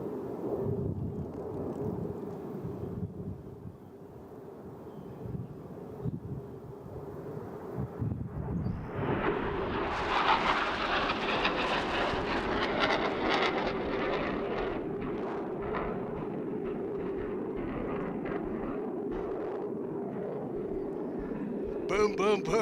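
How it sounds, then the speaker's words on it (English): A Super Sabre jet roars past at an air show, a broad rushing engine sound that swells partway through and holds strong for several seconds amid wind buffeting, with an announcer talking over it. "here comes the Super Sabre"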